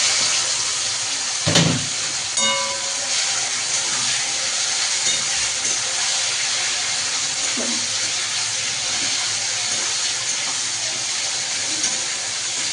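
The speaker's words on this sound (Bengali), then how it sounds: "তারপরে পেঁয়াজগুলো আমি ছেড়ে দিলাম" Chopped onions tipped into hot oil over tempering spices for a mutton curry, giving a steady, close broadband sizzle and hiss that carries on evenly after a brief thump at the start.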